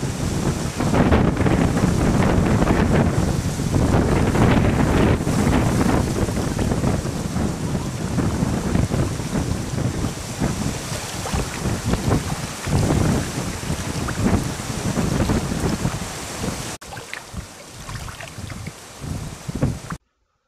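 Strong wind blows outdoors near an inland waterside spot in autumn, a loud continuous roar with gusts buffeting the microphone, easing somewhat near the end.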